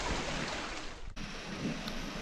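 Water streaming steadily past the hull of a small sailboat at anchor during a solo cruise in the Charente straits, a constant wash with a brief dip partway through.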